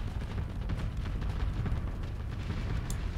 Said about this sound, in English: fire our happy little missiles over here